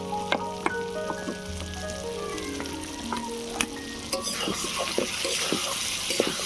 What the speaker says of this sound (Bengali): এবারে ভেজে রাখা আলুগুলো দিয়ে দিচ্ছি।